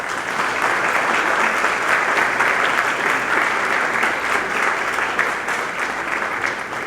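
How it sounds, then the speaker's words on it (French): Warm, sustained applause from a large audience at an academic ceremony for new diplomacy students, a dense, steady wash of clapping that holds at full strength throughout without pause. "Je vous demande de les applaudir chaudement."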